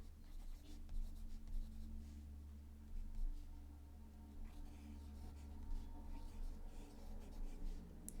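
Fountain pen with a smooth stub signature nib laying down Diamine Twilight ink, making a soft continuous scratchy glide across paper, close and quiet over a low steady hum.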